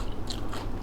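Two quick, close crunches as someone bites into a hard, sweet, cinnamon-flavored Korean snack, heard alone with no talking.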